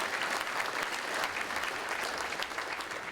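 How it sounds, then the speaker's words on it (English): Audience applause for Sally Armstrong at the 21st Annual Fraser Valley Cultural Diversity Awards, a steady, dense clapping that stays loud and even throughout with no break. "Another round of applause to Sally Armstrong."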